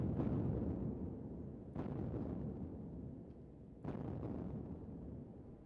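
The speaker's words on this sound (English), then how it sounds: "Mirx, you would quickly recognize this is the sound of cannon fire." Cannon fire plays as a sound effect during a tabletop role-playing session, three deep booms a couple of seconds apart, each trailing into a long rumbling roll with no talk over them.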